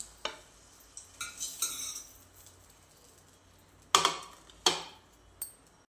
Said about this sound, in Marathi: तर याच कढईमध्ये आपल्याला मसाला परतून घ्यायचा बाकीचा।